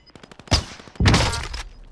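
Rifle fire in Call of Duty Modern Warfare. A faint patter of distant shots leads into two loud, close blasts, the second with a longer booming tail.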